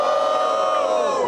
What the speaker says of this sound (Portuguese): Barulho pra quem achou melhor a gema de Falcão, família.